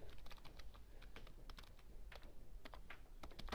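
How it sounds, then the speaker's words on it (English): Typing on a computer keyboard, a quiet close run of irregular key clicks while entering data into a form, with no talk. "I can type in my stuff here"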